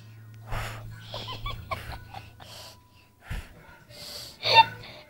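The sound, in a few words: person imitating snoring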